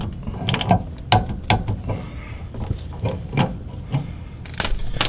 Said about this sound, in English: I'm going to go ahead and torque it to spec.